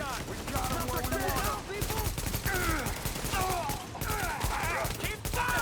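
Repeated video game gunfire in bursts throughout, with sweeping whistling tones and rumbling effects layered over the shooting and a voice talking intermittently.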